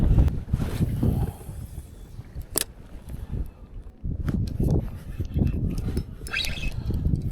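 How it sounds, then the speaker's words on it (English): Wind gusts buffet a kayak out on the water during an early March fishing trip, a steady rushing roar with a few sharp knocks and small splashes, close to the microphone. "The wind is making this absolutely miserable."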